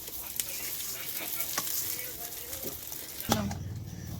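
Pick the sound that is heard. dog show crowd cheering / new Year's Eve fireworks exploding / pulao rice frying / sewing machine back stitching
pulao rice frying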